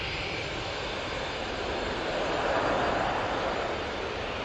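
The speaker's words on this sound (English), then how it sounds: "Ryanair's just arrived." Ryanair airliner arriving at Manchester Airport, its engines a broad steady roar that swells slightly midway, heard from a spotting position with no talk.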